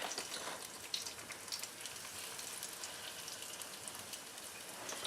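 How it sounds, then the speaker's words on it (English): Steady, dense crackling sizzle of breaded pork chops frying in hot oil, continuous and fairly close, with no talking. "Can you hear that sizzle? That's what it should sound like."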